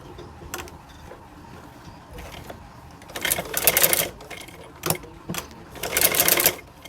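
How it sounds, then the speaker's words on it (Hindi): A sewing machine runs in two short stitching bursts, with faint clicks between them, as a pocket is sewn onto a pair of trousers. "इस तरह से रख के इसके ऊपर हम सिलाई लगाएंगे यहाँ पर"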